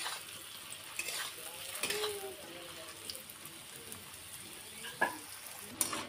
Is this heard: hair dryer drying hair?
no